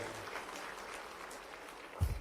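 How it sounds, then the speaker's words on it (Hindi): An audience claps at a public event in Bhopal where the chief minister is speaking, a continuous wash of crowd clapping with a louder burst near the end. "जोरदार ताली बजा दो, एक बार तो हो गया है।"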